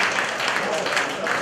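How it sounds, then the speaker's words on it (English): Audience applause at a student induction program, a dense wash of clapping with voices mixed in underneath, brief and steady. "Give a great applause to them."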